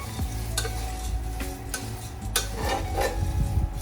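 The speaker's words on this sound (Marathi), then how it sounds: "आता हे पोहे सतत ढवळत राहायचे आहे." Poha is stirred steadily in a kadai on a lit gas stove, producing a continuous dry scraping and rustling with soft metallic scrapes and a faint sizzle, close and without talk.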